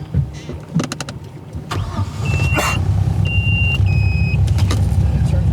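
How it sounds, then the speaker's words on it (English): A boat engine cranks and catches around two seconds in, then settles into a steady low rumble, with a few high electronic beeps over it. "Turn the engine on."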